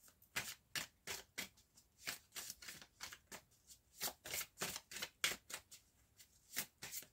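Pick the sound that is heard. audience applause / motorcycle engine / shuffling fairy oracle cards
shuffling fairy oracle cards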